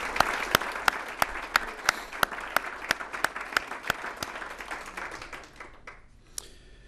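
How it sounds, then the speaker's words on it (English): An audience at a hall of fame ceremony applauds with scattered, sharp individual claps over a steady clapping wash that thins out toward the end. "I'd like to give them a round of applause again for Tom and Ryan."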